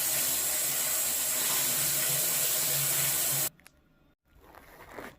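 Water from a tap or shower runs in a loud, steady hissing stream while henna is rinsed out of hair, then cuts off abruptly, followed by quieter splashing and dripping.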